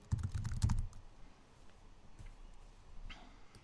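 A passphrase is tapped out on a computer keyboard, a short quick burst of clustered keystrokes up close, followed by a few faint scattered clicks in a quiet room.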